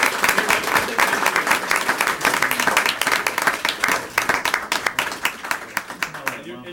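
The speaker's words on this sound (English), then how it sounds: "Let's one more round of applause." People at a school district board meeting applaud, the clapping loud and full at first, then thinning into scattered, distinct claps before fading out.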